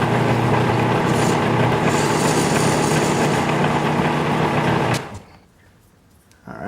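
A metal lathe faces the end of a 3/8 bolt, giving a steady, close, whining mechanical drone for about five seconds before it cuts off into near quiet.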